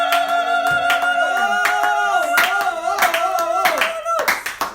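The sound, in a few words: congregation applauding in church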